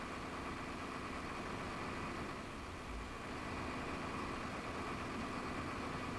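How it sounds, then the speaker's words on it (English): Steady diesel hum and vibration of a Class 221 train in Train Simulator 2018, cruising around 90 mph on the North Wales Coast, a constant rattly engine drone with no one speaking. "The engine seems to be a bit rattly to me."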